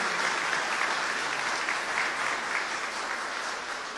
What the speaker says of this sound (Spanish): Aplauso cálido, sentido